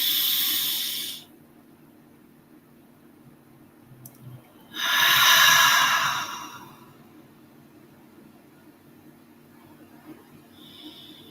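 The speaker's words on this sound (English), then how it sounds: "One last time, inhaling through the nose." A deep inhale drawn through the nose during a guided breathing exercise, heard as a loud airy rush lasting about two seconds, with a shorter breath sound at the very start.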